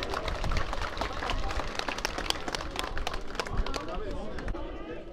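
Audience at a Turkish village lake festival applauding as the former mayor is welcomed to the stage, a dense, steady patter of many hands clapping with crowd chatter mixed in.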